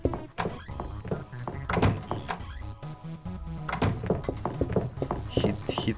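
A door in a Hello Neighbor video game mod thunks and slides, with a string of sharp knocks and clunks spread across the moment and a faint rising whirr in between.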